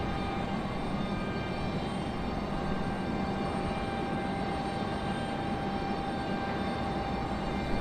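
Embraer E-175 airliner departing at Raleigh-Durham International Airport, its jet engines making a steady, even whine and roar at a moderate distance, unbroken and with no voices.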